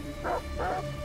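Dogs in the video game Detroit: Become Human give two short, close bark-like bursts over a low background hum.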